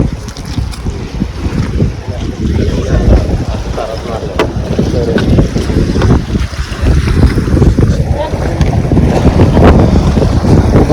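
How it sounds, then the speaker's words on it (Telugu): A boat ride on open water near Antarvedi carries a loud, rumbling motor drone mixed with splashing and heavy wind buffeting the microphone, rising and falling throughout with faint voices underneath. "మనం ఇప్పుడు బోటింగ్ అయితే స్టార్ట్ అయింది ప్రజెంట్ అయితే మనం బోట్లో ఉన్నాం"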